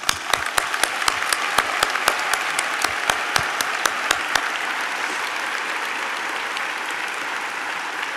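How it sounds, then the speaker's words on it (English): A graduation audience at a spring convocation ceremony applauds steadily, with a broad wash of clapping and a few sharp, regular claps standing out near the start before the sound settles into even applause. "I invite my fellow students to join me in a brief round of applause to thank them"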